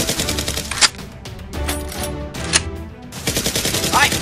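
Rapid bursts of toy Nerf gun fire in a staged action scene of henchmen shooting at a boss, sharp clattering volleys with brief pauses between them, close and loud.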